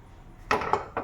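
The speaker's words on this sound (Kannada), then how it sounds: "ಬಾಣಲಿ ಇಡ್ತಾಯಿದ್ದೀನಿ" A metal kadai set down on a kitchen gas stove before tempering, giving a few sharp clanks and scrapes of cookware, close and moderately loud, with a quiet pause before the first knock.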